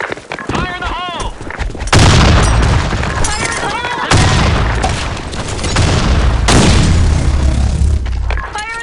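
Grenade blasts and gunfire in the shooter game BlackShot, heavy booming explosions and rapid rattling shots layered densely and loudly, with shouted voices in between.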